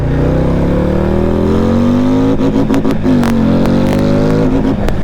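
A 2026 Harley-Davidson Street Glide 135 motorcycle revs hard toward redline in first gear, its loud V-twin engine note climbing steadily in pitch before a brief gear-related dip, close and continuous with no talk.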